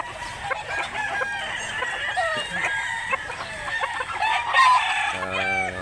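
Chickens and roosters at a rural chicken market in Mantalungon, Barili, Cebu, crowing and clucking close by in a busy, overlapping chorus, with a loud crow rising near the end.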